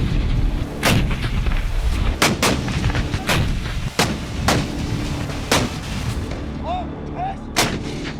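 Artillery cannons fire in a conflict between two Central Asian countries, with about eight loud, sharp booms at irregular intervals over a constant background rumble.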